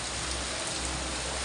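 Heavy rain pours down steadily in a dense, even hiss with no pauses, close and loud throughout.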